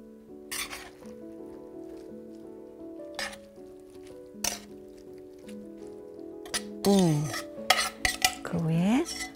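Spring green pasta made from durum wheat is served onto a plate with metal utensils, giving scattered clinks and scrapes over soft tonal background music, with a louder clatter near the end.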